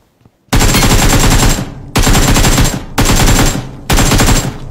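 Automatic gunfire from a fight in the mobile game BGMI comes in four long, loud, close bursts separated by brief gaps, with no voices.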